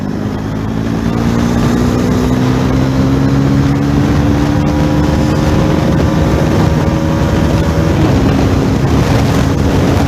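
A Bajaj Pulsar NS400Z motorcycle engine runs under throttle, its droning tone climbing steadily over about ten seconds, loud and continuous and mixed with rushing wind noise.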